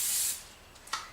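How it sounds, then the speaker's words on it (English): Cooking spray hisses onto a waffle iron in one short, close burst that cuts off quickly, followed by near quiet and a small click. "I'm going to spray the waffle iron with a little bit of spray."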